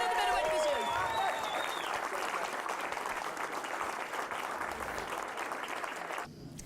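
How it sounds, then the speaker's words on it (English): Loud applause from an audience at a black belt open martial arts championship, honouring the middleweight division champion; sustained clapping that fills the room, then cuts off abruptly near the end. "can we have a big round of applause, please?"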